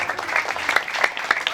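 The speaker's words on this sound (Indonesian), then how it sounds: "Tepuk tangan buat para pemuda dan pemudi." Mosque congregation at Masjid Jami' An Nur in Tomang Banjir Kanal applauding young men and women during a religious sermon, a brief dense burst of clapping heard close by.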